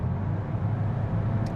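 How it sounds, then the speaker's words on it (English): Low steady drone of a VW Golf R Estate engine while driving, with road noise beneath it, constant and unbroken, no talk. "The engine noise, it's all right."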